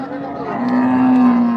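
A cow gives a single long, low moo close by at a cattle market, rising out of faint background murmur.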